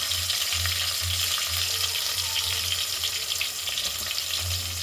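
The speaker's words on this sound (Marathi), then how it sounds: "छान असे लाल तळून घ्यायचे" Loud, continuous crackling and sizzling of food frying in hot oil until reddish, for an egg biryani, with a low intermittent hum pulsing underneath and no voices.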